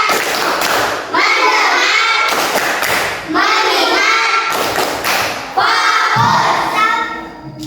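Children in a third-grade Indonesian classroom perform a rhythmic clapping chant, loud close claps in bursts between short shouted words, repeated in a steady pattern.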